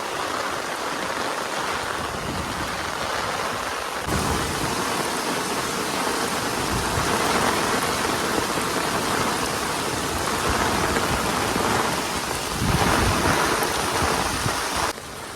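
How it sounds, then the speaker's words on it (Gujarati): Heavy rain pours steadily during flooding in Meghna Society, Keshod, with knee-deep water in the streets, a dense continuous hiss that swells louder near the end, no voices heard. "વરસાદ પણ બહુ છે"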